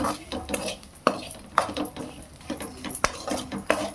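Spices and grated coconut fry in a pan for stuffed bitter gourd curry while a metal spoon stirs and scrapes, giving sharp clinks and scrapes at an irregular rhythm over a faint sizzle, close and fairly quiet.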